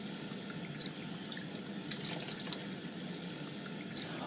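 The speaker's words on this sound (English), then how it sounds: "Rinse off the soap with clean water." Tap water runs steadily while soapy hands are rinsed under it, a soft continuous splashing flow with faint drips.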